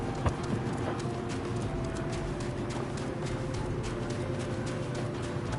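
Heavy hoofbeats of a very big goat mount in the video game Final Fantasy XIV, a steady clip-clopping rhythm over a continuous game soundscape, moderately loud and without talk.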